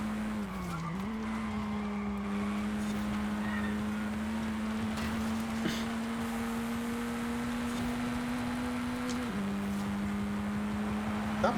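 Steady droning car engine from a multiplayer racing video game, holding a near-constant pitch with small shifts, running alone and fairly loud for the whole stretch.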